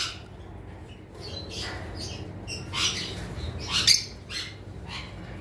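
Pairs of red-eyed albino Fischer's lovebirds for sale in a bird shop, giving a run of sharp chirps and squawks over a steady low hum, several louder calls bunching up near the end.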